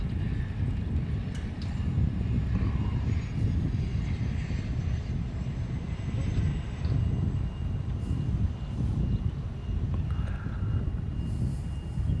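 A Hawaiian Airlines plane landing at Honolulu, in from Maui, makes a sustained low engine rumble with faint higher whines, moderately loud and continuous, with no one talking.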